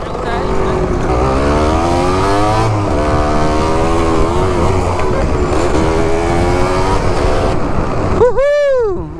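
A motorcycle, either an MTX125R or a Crossfire 450RR, revving on a riverside road: a loud, close engine whose pitch repeatedly climbs and falls, ending in a sharp rising-then-falling rev.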